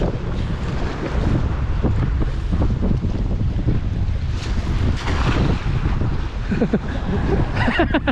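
Strong wind roars steadily across the microphone, a loud continuous rush with buffeting gusts and faint background sounds beneath.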